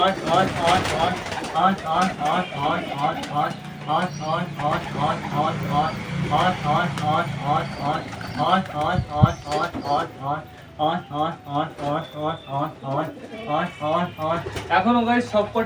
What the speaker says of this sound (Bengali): আমাদের বাড়িতে নতুন অনেকগুলো পায়রা আছে চারটে পায়রা আছে